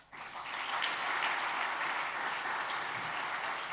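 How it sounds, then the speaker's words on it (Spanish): Audience applause at a Chilean financial awards event, steady sustained clapping from a sizeable crowd filling the room, rising quickly and holding level throughout. "Un aplauso también para él, por favor"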